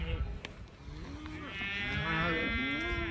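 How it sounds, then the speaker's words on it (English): Cows moo outdoors. Several long, drawn-out calls overlap at a moderate distance, with rougher low lowing early on and a sustained moo swelling through the second half. "I'm just hoping that all the cows mind their manners."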